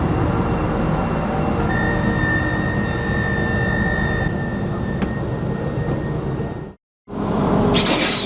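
A train departing a small station in Corsica rumbles steadily nearby with a high, sustained tonal whine, then cuts out briefly before a loud rushing noise resumes.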